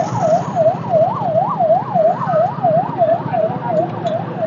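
A Jharkhand government ambulance siren wails in a fast rising-and-falling yelp, repeating steadily over road and engine noise.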